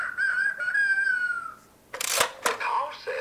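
A rooster crows in a rising, sustained call near the mic, followed by a couple of sharp noisy bursts.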